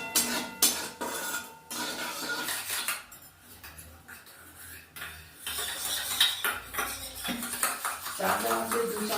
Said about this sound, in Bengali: এবার ওই তেলেতে একটু জিরে